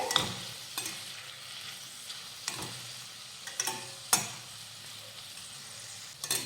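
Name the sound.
green chili, ginger and garlic sautéing in pan with onions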